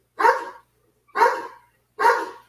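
A dog in a crate barks three times at a steady, roughly one-second interval, each bark sharp and fairly close, with silence between them and no talking.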